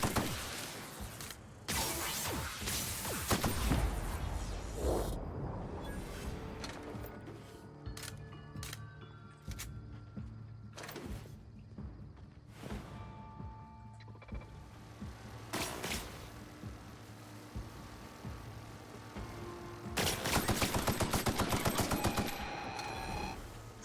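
Rapid gunfire bursts from a weapon in the video game The Outer Worlds, loud and dense with repeated volleys and mechanical clatter across the clip, ending in a fast rattling burst.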